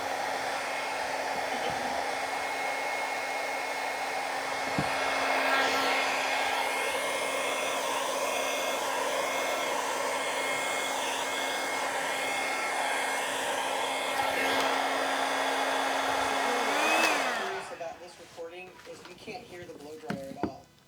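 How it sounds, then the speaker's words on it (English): A hair dryer blows steadily and loudly during a live hair-coloring demo, a constant whooshing drone with a low hum that cuts off near the end, leaving quieter room sounds and brief speech. "I didn't even realize at first you were doing the blow dryer"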